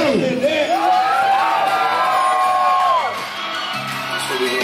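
Concert crowd in Anderson, Indiana screaming and cheering loudly, a sustained roar with shrill whoops and a rising-falling yell that fades after about three seconds.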